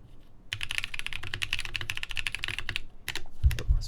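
Typing on a newly assembled Box 75 mechanical keyboard: rapid, close clicking keystrokes in a steady run, a brief pause, then another burst with a couple of heavier thuds.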